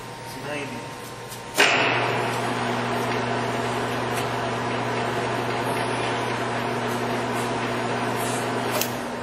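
A precision lathe turning at 90 RPM gives a steady low mechanical hum with a faint whine after a sharp clunk as it starts. Someone talks over it.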